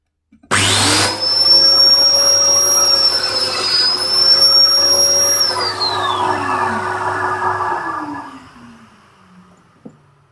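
A Festool Domino joiner cutting a narrow mortise, its motor spinning up to a loud steady high whine with a tonal pitch that dips slightly mid-cut, then winds down over a couple of seconds, followed by a small click.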